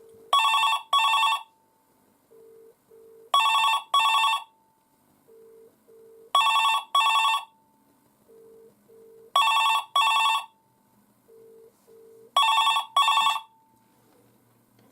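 A 1988 ivory British Telecom Minstrel telephone rings loudly in repeated double-burst electronic trills, five cycles evenly spaced about three seconds apart, with short quieter tones between the bursts.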